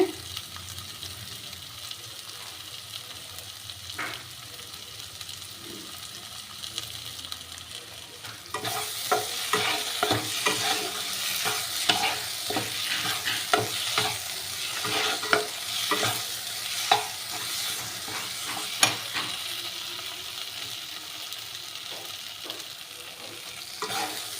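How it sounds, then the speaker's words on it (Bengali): Spice masala for egg curry sizzles and fries in hot oil, quieter at first, then louder with frequent stirring scrapes and crackles; no voices. "মশলা দিয়ে তেল ছেড়ে দিয়েছে মানে মশলাটা ভাজা হয়ে গেছে"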